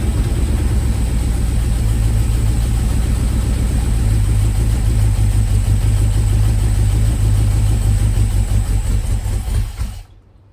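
A GM LS V8 fitted with an off-the-shelf carburetor roughly twenty years old, running on a factory PCM with an aftermarket harness and no MSD ignition, idles loud and steady with a deep rumbling pulse before cutting off abruptly.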